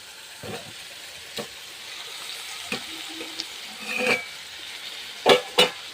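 Bitter gourd pieces tipped into a pan of gravy with oil sizzling, then stirred; several soft scrapes and splashes with a couple of sharper clinks near the end, fairly quiet and without talk.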